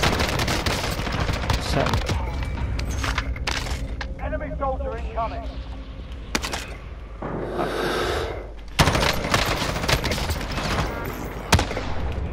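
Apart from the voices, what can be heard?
shotgun gunfire in Call of Duty: Warzone video game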